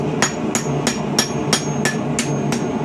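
A hammer strikes a medieval leaf-bladed arrowhead socket on the rounding side of a swage, giving eight evenly spaced, ringing metallic blows in a steady rhythm with no talking.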